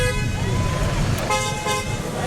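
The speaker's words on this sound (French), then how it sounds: "Yougou et klaxons se font entendre à des centaines de mètres à la ronde." Car horns toot repeatedly amid a dense crowd din and chanting voices during a festive port arrival, the honks overlapping with one another under the noise.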